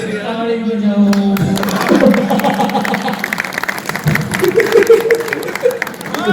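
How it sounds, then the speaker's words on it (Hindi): Audience clapping and applause at a Rajasthani comic poetry gathering in Ratangarh, a steady crowd of hands rising after a sustained tone and carrying on with a few voices mixed in. "ताली बजाओ"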